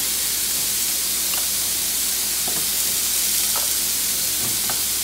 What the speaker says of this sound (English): go ahead and get these onions grilling